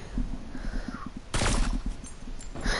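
Video game gunfire crackles in a rapid rhythmic burst, then a sharp, loud shot and a second blast follow, each sounding close and punchy.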